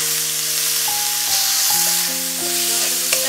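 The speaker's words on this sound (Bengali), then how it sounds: "এবার টমেটো কুচিগুলো দিয়ে দেব।" Chopped tomatoes sizzle as they fry with spices for a soybean curry, a bright continuous hiss under music with sustained tones.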